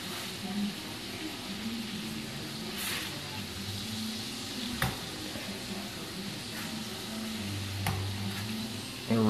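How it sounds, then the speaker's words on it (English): Thick-cut pork chops frying in a pan, a steady close sizzle and crackle with a few brief sharp pops, continuous with no talk over it. "Their pork chops are really thick for some reason this time."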